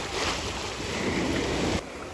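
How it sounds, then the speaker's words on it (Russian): Steady broadband wash of sea waves on a beach in Turkey with wind rumble, continuous and fairly close, easing off abruptly near the end; no voices. "Здесь вот волны такие постоянные."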